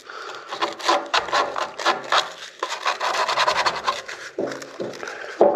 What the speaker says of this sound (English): A little bit of sandpaper and come inside of here.